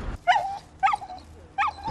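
A dog ordered to attack, in a Turkish TV comedy scene, lets out three sharp, close barks in quick succession, each a short yappy burst with brief pauses between.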